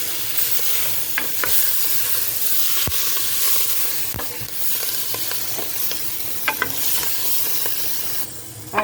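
Thyme and parsley sizzle in a pot for potato soup, a close, steady frying hiss broken by occasional clinks and scrapes of stirring, with no one talking.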